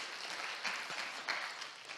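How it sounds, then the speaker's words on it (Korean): Church congregation clapping in welcome during a Sunday service, a soft, steady patter of many hands with a few sharper claps standing out. "박수 하겠습니다"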